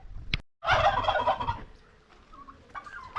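Turkeys gobble in a loud, rapid burst close by, followed by softer scattered calls from the flock.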